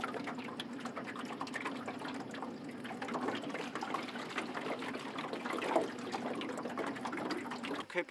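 A boat paddled up Cooper Creek near Innamincka, soft water swishes and trickling drips from the paddle strokes, faint and continuous, with a low hum in the background.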